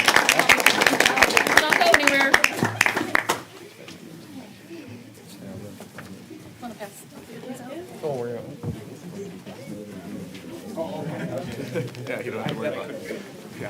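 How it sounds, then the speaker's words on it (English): Dense applause fills a city council chamber in honor of a local robotics team, loud and sustained for several seconds before stopping abruptly, followed by people talking and moving about. "Clap."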